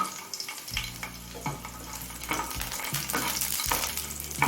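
Slit green and ripe chillies frying with garlic in oil in a pan on low flame, a steady close sizzle broken by repeated stirring and scraping sounds.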